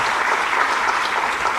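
Dense, steady audience applause fills a ceremony hall at a Delhi Tamil Sangam felicitation event, the clapping continuous and loud throughout with no voices rising above it.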